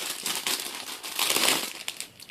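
Wax melt packaging being opened, with crisp, continuous crinkling of plastic wrap that swells into louder handling bursts toward the end; no talking.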